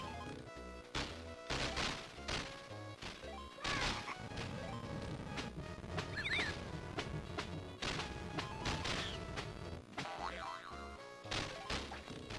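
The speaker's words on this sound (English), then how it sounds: "I get that it's supposed to be the collapsing temple and everything, but these noises, what is going on with these noises?" Collapsing temple level in the Jungle Book game on Sega Genesis: dense, loud crashing and smashing effects pile on top of busy background music, with repeated heavy impacts throughout.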